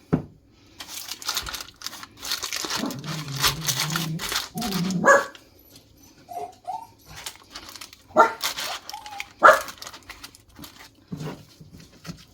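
A dog barks and whimpers from a television in a home kitchen, a few sharp yelps and barks scattered across the clip at moderate level, with quieter background sounds between them.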